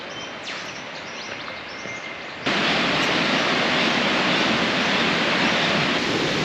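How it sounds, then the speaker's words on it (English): Birdsong rings through a subtropical rainforest on the walk down to a waterfall, with sharp calls over a soft hiss that turns into a loud, steady roar of rushing water partway through. "Lots of beautiful bird sounds as I walk down to the waterfall through a beautiful little bit of forest."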